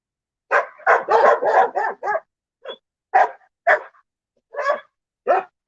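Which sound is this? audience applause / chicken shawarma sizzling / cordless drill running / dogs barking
dogs barking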